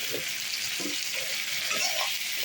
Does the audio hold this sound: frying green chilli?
yes